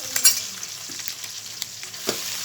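Ginger frying in a pan as it is stirred: a bright, steady sizzle up close, with scattered scraping clicks from the utensil and no voices.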